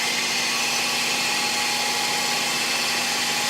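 A cheap carbide cutter machines a steel welding table jig pin, a loud, steady, close whine and grinding hiss that holds unbroken throughout with no talking.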